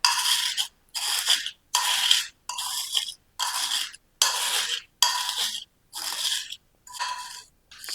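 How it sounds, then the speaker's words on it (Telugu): Fried edible gum (gond) crushed into powder, a dry scraping crunch repeated in about nine even strokes with brief pauses between, close and clear with no talking. "ఇలా అంతా గట్టిగా నొక్కితే మొత్తం మ్యాష్ అయ్యి పౌడర్ కింద అవుతుంది"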